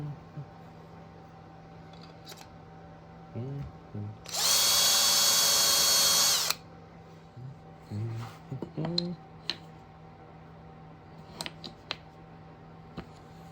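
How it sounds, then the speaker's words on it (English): A power drill bores a 1/4-inch dowel hole in cherry wood for a pivoting bookstand, giving one loud, steady whine of about two seconds amid quiet workshop handling noises. "What I'm doing is cutting a 1/4-inch dowel hole"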